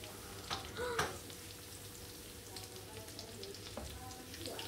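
Eggs fry in a pan, a faint, steady background sizzle broken early on by a few brief clinks and knocks.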